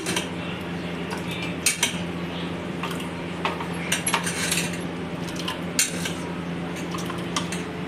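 Metal spoons clink and scrape against glasses while mango pulp for aam panna is scooped in, giving a series of light, irregular taps and scrapes close by over a low steady background hum.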